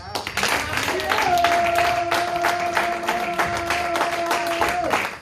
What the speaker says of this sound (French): maintenant acclame Jésus